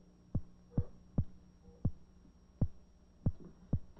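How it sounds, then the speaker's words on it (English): An electric eel's electrical discharge played through a loudspeaker, a series of sharp, evenly spaced low thumping pulses over a faint steady hum, fairly quiet, with no voices. "we can hear the electrical discharge on a loudspeaker"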